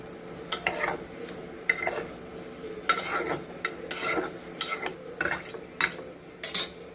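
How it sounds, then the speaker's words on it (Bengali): Egg and potato curry with shahi garam masala is stirred in a pan, with a series of rough scraping strokes and clanks of the spoon over a low sizzle. "নাড়িয়ে দিই।"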